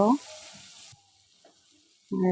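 Biryani meat fries in oil with packet garam masala, a brief soft hiss that fades quickly, with a voice speaking at the start and the end.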